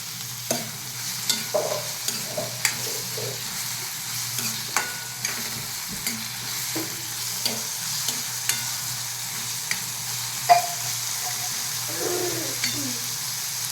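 Chopped tomatoes frying in a home kitchen pan, a steady soft sizzle under repeated clicking scrapes of a spoon stirring, moderately close, with no voices.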